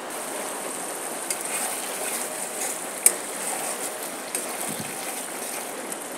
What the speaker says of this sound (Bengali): এখন এই মশলা ভালো করে কষিয়ে নেব